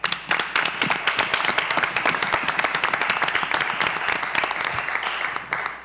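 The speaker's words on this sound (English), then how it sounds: "if you can give them a round of applause to the coaches there" An audience at a school board of education meeting applauds the coaches, a dense, sustained round of clapping from many hands that stays steady for several seconds, fairly close and with no one talking over it.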